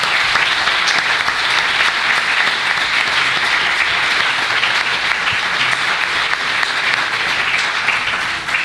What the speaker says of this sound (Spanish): si os parece les vamos a dar un aplauso porque se lo merecen